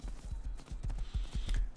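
Horse hooves clip-clop in the survival video game Rust, a quick, evenly paced series of hollow thuds as the horse moves along, close and clear, with no voices.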